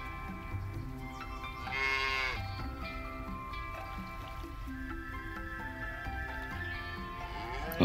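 Cows moo in a farming video game, a couple of drawn-out lowing calls around the two-second mark set against continuous game music and ambient farm sounds.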